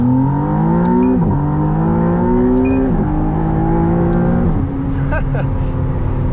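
A McLaren Artura supercar engine revs up hard in sport mode through several quick gear changes, each shift dropping the pitch before it climbs again, loud and close.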